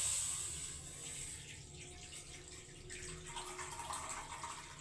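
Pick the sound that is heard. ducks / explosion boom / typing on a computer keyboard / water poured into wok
water poured into wok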